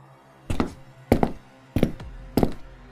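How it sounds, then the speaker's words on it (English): Four soft knocks land on a bedroom door at uneven gaps, each a dull wooden thud, close and isolated against a quiet night room. "It was a soft knock on my bedroom door."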